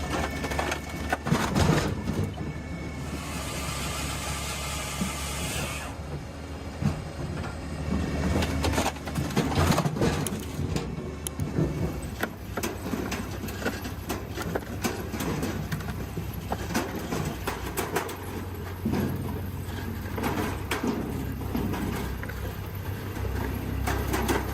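Hacky-Pilky 55 Pro firewood processing machine running, a dense mechanical clatter of knocks and thumps over a steady low rumble, with a hissing burst early on, moderately loud and continuous with no talk.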